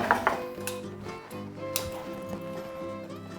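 Pizza rolls being pulled out of a Cosori air fryer, with a few clinks and scrapes of the basket and utensils over a steady background hum.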